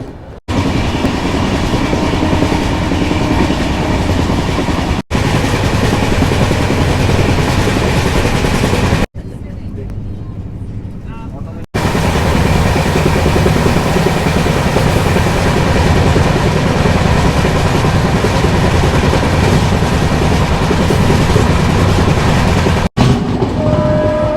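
Loud, steady rumble and clickety-clack of a Shatabdi Express train pulling out of Kishangarh railway station on rails, continuous throughout with two brief quieter drops and no talk.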